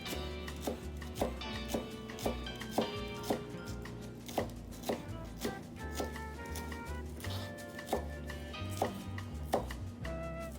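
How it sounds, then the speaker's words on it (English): A knife finely chops vegetables on a cutting board, with a brisk, fairly regular series of sharp, close taps and light clatter, no one speaking. "So you need to cut this one up really fine."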